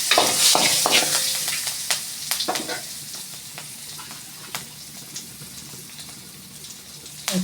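Pepper and curry leaves sizzling loudly in hot oil, a dense crackling hiss with sharp pops that is strongest at the start, then settles into a steadier, quieter fry up close.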